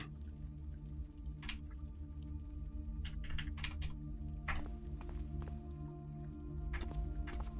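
Computer keyboard typing clicks away steadily through the whole stretch at modest, close level, with irregular taps and short bursts of keystrokes over a constant low background hum.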